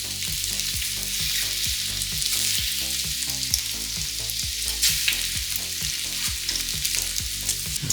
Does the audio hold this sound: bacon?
yes